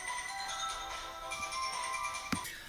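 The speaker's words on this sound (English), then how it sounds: "Urgent phone call" An incoming call's phone ringtone chimes continuously through the whole stretch, a steady layered electronic tone at moderate volume with a brief knock near the end.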